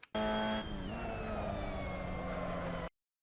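A Mazda MX-5 Cup car in Assetto Corsa, braking hard for a corner at Portimao, gives a loud, steady engine whine that dips in pitch then holds as it drops into third gear, without any talk.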